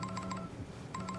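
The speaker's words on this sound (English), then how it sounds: "Yo, the phone's still going off." A phone rings in repeated pulsed electronic tones, two short bursts separated by a pause, fairly faint under a steady background.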